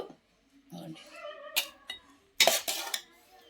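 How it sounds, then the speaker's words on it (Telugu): Okra chutney is pounded by hand in a stone mortar, with a few dull thuds and clattering knocks, while a person talks in between. "ఇది చికడ చికడగా ఉంటుంది కాబట్టి జాగ్రత్తగా అదిగో ఇలాగా దంచుకోవాలండి"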